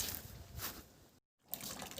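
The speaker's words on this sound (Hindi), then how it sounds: "आज जो पानी आया नलके में तो इसी पानी से धोऊंगा।" Tap water gushing steadily into a sink or basin at home, a loud, close, hissing splash that cuts out for a moment and then starts again.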